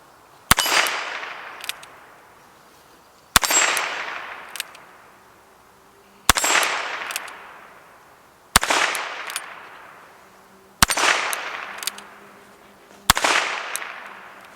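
A Ruger Wrangler .22LR revolver fires six sharp shots at a steel plate rack, spaced about two to three seconds apart, each crack followed by a short ringing decay and fainter metallic pings, with no talking.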